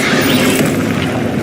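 A loud, dense spell impact from the Hogwarts Legacy video game, a Depulso force blast mid-combat, giving a sustained low boom with broadband rumble throughout.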